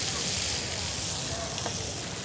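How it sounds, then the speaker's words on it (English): Tomatoes, capers and anchovies frying in a pan at an outdoor food event, a steady close hiss of sizzling oil filling the whole stretch without pause. "More sizzle, love it."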